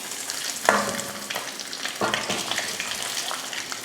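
Eggs frying in hot oil alongside potatoes for an egg kulambu, a busy close crackling sizzle with sharp spatter pops and stirring scrapes throughout.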